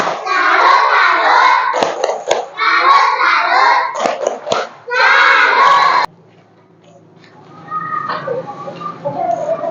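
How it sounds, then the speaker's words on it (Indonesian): A class of children claps and chants loudly together in a 'tepuk salut' clapping routine, bursts of rhythmic hand claps mixed with shouting voices. Then comes a sudden drop to quieter room chatter. "Yuk, sekarang kita tepuk salut."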